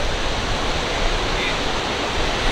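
Continuous roaring wash of surf on Krakal Beach in Gunung Kidul, Indonesia, loud and steady throughout, with no distinct breaks or voices.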